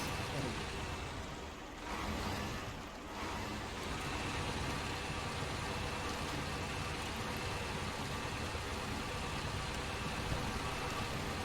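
An articulated tractor drives in a farming game with a steady, low engine drone that stays unbroken and fairly faint, with a slight dip in level early on.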